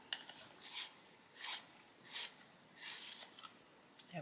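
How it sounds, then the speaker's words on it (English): A Prisma blending pencil is sharpened by hand, giving five close, soft rasping scrapes in a steady rhythm with short quiet gaps between them. "Clean it off and sharpen it."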